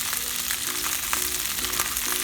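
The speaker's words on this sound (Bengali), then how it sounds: "এক পাশ হয়ে গেলে আমি কোফতাটা উল্টে দিচ্ছি।" Beef kofta pieces fry in oil in a pan, a steady close hiss and sizzle filling the whole stretch with faint spatters throughout.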